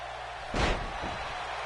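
A single heavy thud lands as a knee strikes an opponent's face in an outdoor wrestling match on sand, a sharp loud impact over a steady background hum, with a weaker follow-up thump.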